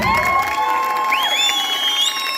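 A studio audience at a Turkish entertainment show cheers and whoops, a dense, steady crowd roar with rising shouted whistles and children's shouts standing out over it, loud and sustained for a couple of seconds.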